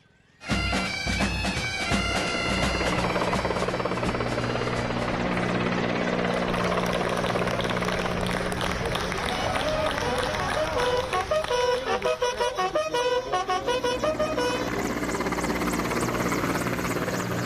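An Indian armed forces helicopter flypast over hospitals drones loudly and steadily throughout, its rotor thumping continuously, with faint crowd noise of clapping and other sounds mixed in.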